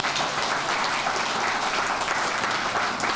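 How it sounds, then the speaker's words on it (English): Dense, steady applause from an audience at a Revolutionary War exhibit opening reception in Hudson, loud and continuous throughout with no voices over it. "So I want you to give a round of applause"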